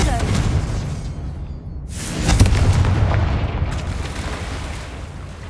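A Confringo blasting spell explodes in the Hogwarts Legacy video game, a deep booming blast that swells around the middle and rolls on over a steady rumbling game background.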